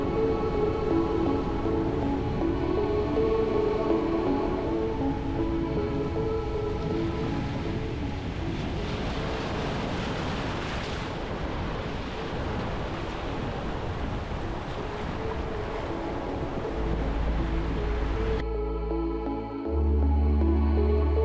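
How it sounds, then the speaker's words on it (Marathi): Sea waves wash steadily onto a clean, quiet beach at Punli near Ratnagiri, a continuous broad roar of surf that stays even and fairly loud, ending with a brief change near the close. "बाकी समुद्र खूप सुंदर आहे आणि खूप स्वच्छ पण आहे."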